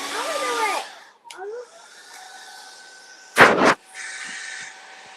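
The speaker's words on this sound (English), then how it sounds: "oh, she needs the blow dryer" A blow dryer runs steadily as a broad, close whooshing hum for most of the stretch, with a brief louder burst near the middle and a short voice at the start, while painting is underway.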